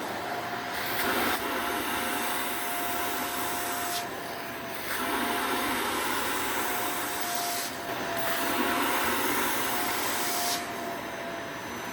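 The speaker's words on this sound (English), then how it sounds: "vacuum is activated." Loud, continuous vacuum motor drone from a portable steam carpet and upholstery spot cleaner, with a steady high whine, briefly dipping and surging a few times as the suction changes, close and without speech.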